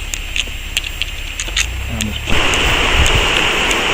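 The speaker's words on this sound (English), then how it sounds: "This is the first good waterfall." Waterfall on the Isle of Skye near the Fairy Pools, its steady rushing roar swelling up loud and close after a quieter stretch of faint outdoor noise with a few clicks.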